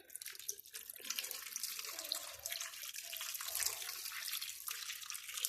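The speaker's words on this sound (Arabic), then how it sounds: "وهنزل بشويه ميه" Water pours from a tap into a cooking pot in a home kitchen, a continuous hissing splash that runs steadily for several seconds, quiet and close with no talking.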